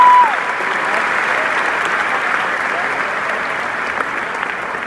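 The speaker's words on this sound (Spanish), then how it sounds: "Les voy a pedir que recibamos con un fuerte aplauso al pastor Andrés Corso" A church congregation at a Guatemalan worship service applauds a pastor's arrival with steady, dense clapping that fills the room for the whole stretch, with a brief voice at the very start.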